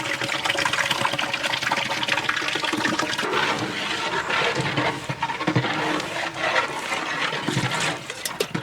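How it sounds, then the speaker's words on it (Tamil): Five litres of yogurt pouring into a large biryani pot for a 30 kg chicken dum biryani cooked outdoors, a steady gushing, sloshing pour that runs loud and continuous throughout. "இந்த டைம்ல 5 லிட்டர் தயிர் சேர்த்துக்கலாம்."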